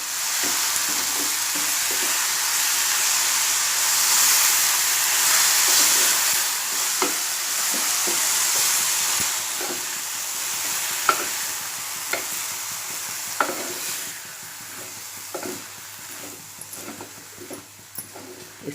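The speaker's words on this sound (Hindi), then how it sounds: "अब मैं इसमें कटी हुई प्याज की भाजी, ओनियन ग्रीन्स जो मैंने काट कर रखी हूँ" Chopped spring onion greens with kolim fry in a hot pan, a constant hiss of sizzling oil overlaid by scattered scrapes and taps of a spatula that sharpen toward the end, with no one talking.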